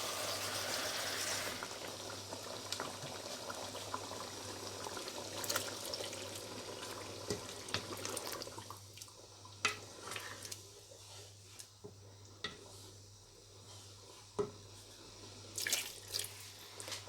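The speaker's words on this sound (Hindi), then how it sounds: "ये 2 गिलास पानी के डाले हैं ताकि कोफ्ते भी पक जाएं और चने भी।" Water from two glasses is poured into a simmering Lahori-style kofta and chana gravy, starting with a brief rush, then giving way to soft bubbling, faint drips and occasional clinks in a quiet kitchen.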